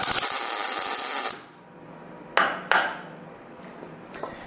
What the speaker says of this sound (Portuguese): Peraí que eu vou dar um ponto de solda aqui.